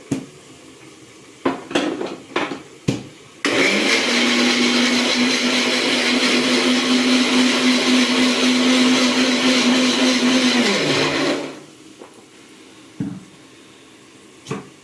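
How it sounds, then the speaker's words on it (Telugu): A few clinks and knocks, then a mixer grinder blending tomatoes whirs loudly and steadily for about seven seconds before winding down, followed by a couple of light taps. "మిక్సీ పడుతున్నాం టమాటా"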